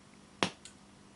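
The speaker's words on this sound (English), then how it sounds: "it sounds like it's some sort of physical relay clicking" Relay click from a Quad Cortex guitar amp modeler on exiting capture mode: one sharp, close pop followed a moment later by a fainter second click, with near-silence around them.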